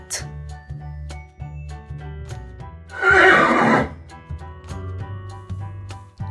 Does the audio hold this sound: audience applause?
no